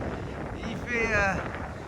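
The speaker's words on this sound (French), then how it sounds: "Il y a des rafales de vent à plus de 40 km/h." Steady wind roars and buffets the microphone on a Yucatán beach in a storm, gusts over 40 km/h, swelling into a stronger gust midway, with faint voices in the background.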